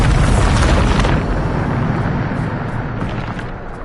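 A Bombarda spell explosion in the video game Hogwarts Legacy, a loud broadband boom that bursts at the start and then rumbles on in a long, slowly fading roar.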